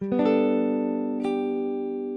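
A ringing guitar add 9 chord voicing over G is strummed quickly, then a second strum follows a second later, both sustaining clearly and fading slowly.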